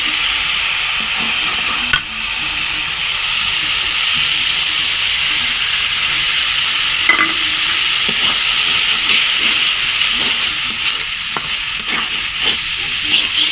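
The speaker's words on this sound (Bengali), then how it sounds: "এই ডিমটা এখন আমি দিয়ে কষিয়ে নেব একটু" Fish roe is stirred and fried in spice paste for a pumpkin curry, giving a continuous loud sizzle with scraping stir strokes throughout and no voices.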